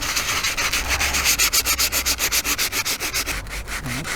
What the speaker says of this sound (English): So this is actually 80 grit, and I'm going to see what it's like sanding it dry.